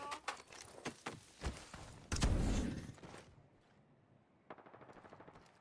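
Gunfire rings out in a video game as a Kraber sniper rifle is used: several sharp cracks, a heavy booming blast, then a quick run of lighter shots, all close and punchy.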